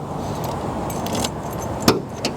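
A set of gold keys jangles at the trunk of a 1971 Chevy Impala, with a soft metallic rattle and a sharper clink near the end, close and fairly quiet.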